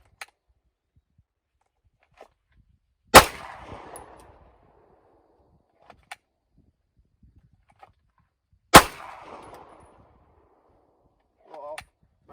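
Two sharp, loud gunshots crack several seconds apart at a shooting range, each followed by a short echoing decay, with faint clicks and handling noises in between and a brief voice near the end.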